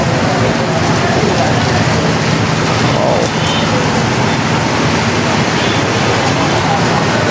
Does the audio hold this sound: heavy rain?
yes